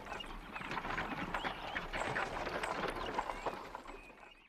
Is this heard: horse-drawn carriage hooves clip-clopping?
yes